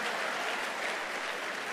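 Steady applause from a church congregation, an even wash of clapping hands at moderate distance, with no pauses.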